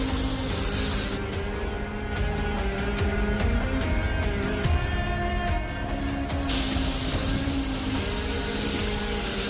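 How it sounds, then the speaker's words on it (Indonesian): A paint spray gun lays a second coat of metallic green paint on a car, giving a continuous close hissing spray that stops and restarts midway, with a steady mechanical hum beneath. "Lapis kedua kita semprotkan lapis keduanya"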